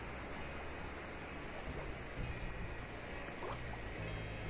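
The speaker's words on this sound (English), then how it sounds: "Hear it splashing on the shore." Lake water laps gently at the shoreline on a calm autumn day beside a canoe campsite, a steady soft wash with small irregular splashes throughout, no voices.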